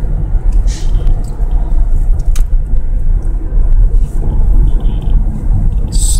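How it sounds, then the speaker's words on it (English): Heavy interstate traffic on I-95 rumbles from inside a car, a loud continuous low road drone with occasional hisses and passing vehicles. "Heavy traffic again."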